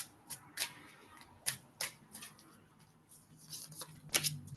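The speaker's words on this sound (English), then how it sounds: "My cards don't want to shuffle right now." Tarot cards being shuffled by hand at close range, quiet irregular riffles and soft snapping flicks in short bursts, with no talking.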